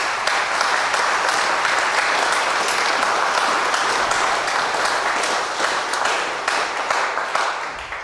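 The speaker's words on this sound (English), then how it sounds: "Let's give them another round of applause," Loud, sustained applause from a concert audience in a church for a Ukrainian choir, a thick continuous wash of many hands clapping close by, steady throughout with no talk.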